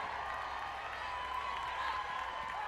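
Softball crowd at an Oklahoma versus Arkansas game, heard as a steady, moderately loud roar of cheering and scattered clapping spread through the stands, with no break over the short stretch.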